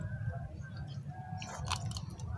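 Close, crunchy biting and chewing as a crab head is eaten outdoors, with a burst of sharp cracks toward the end.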